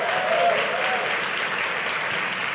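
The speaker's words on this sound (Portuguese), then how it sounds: "Pode aplaudir Jesus, mulheres." A dense, steady wash of clapping from a church congregation fills the room, loud and continuous for a couple of seconds.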